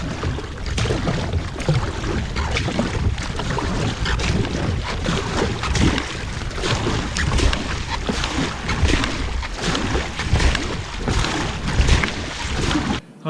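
Paddling a Stealth Fusion 480 kayak with a wing paddle on open water: continuous rushing water, splashes, and heavy wind buffeting on the microphone, loud and close throughout with no speech.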